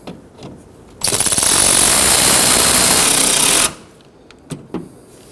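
A power tool snugs down the grille mounting bracket bolts on a 2015-2024 Ford Edge. A loud, harsh, continuous burst runs for about two and a half seconds between quiet stretches with a few light clicks.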